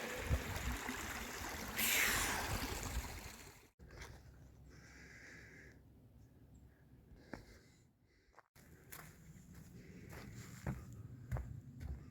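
Footsteps crossing a creek on a hike along the Yadkin: a loud splashing burst early on, then quieter uneven steps and sloshes over a soft background of flowing water.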